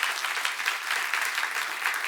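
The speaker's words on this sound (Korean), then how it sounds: "박수 한번 쳐보시오" A church congregation at a Korean seminar service breaks into brisk, steady applause, a bright continuous patter of many hands close by.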